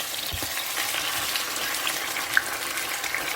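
Chicken pieces fry skin side down in a hot pan, giving a loud, continuous bright sizzle with small pops and crackles, close up and heard alone without talk.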